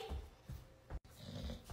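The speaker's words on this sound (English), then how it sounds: "It is a dog, but wait." A dog growls in a cartoon, a short, low, rumbling snarl in two bursts split by a brief gap, quiet and close, with no talk.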